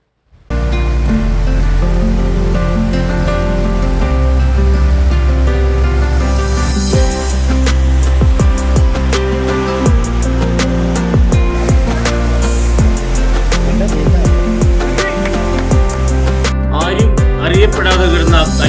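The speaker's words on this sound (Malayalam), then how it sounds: "മുപ്പതറ വളക്കോട് കണ്ണമ്പടി റൂട്ടിലാണ് കണ്ണിനും കാതിനും വിസ്മയമൊരുക്കുന്ന വെള്ളച്ചാട്ടമുള്ളത്" Kallettupara waterfall on the Vagamon route in Kerala roars with a steady, loud wash of rushing water that fills the whole scene without pause, with no voices heard.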